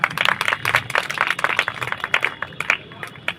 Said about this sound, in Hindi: ऐसे बाबू सिंह परिहार जी के लिए बहुत बहुत तालियां बजाएं आप सब बच्चे